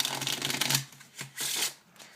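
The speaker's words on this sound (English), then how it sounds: "So you riffle shuffle it, and then now their card is still on the bottom." A deck of playing cards is riffle shuffled in two quick bursts of fast fluttering, crisp and close, with a short pause between them and no talking.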